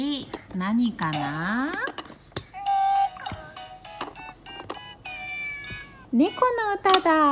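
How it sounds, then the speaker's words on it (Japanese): Meowing in a children's song, with repeated rising and falling meows set to a bright, beeping musical backing. The sound is loud and close, and the meows come in bursts separated by short gaps. "猫の歌だ。"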